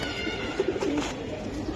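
A female Musallam pigeon gives a soft, low coo at close range, a short burst of murmuring notes over faint background noise.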